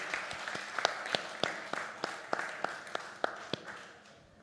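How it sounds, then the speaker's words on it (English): Sparse clapping from a small audience at a technical talk session of the Monaco Energy Boat Challenge, distinct separate claps in a loose rhythm, fairly quiet and tapering off toward the end. "Applause for you, Kurt."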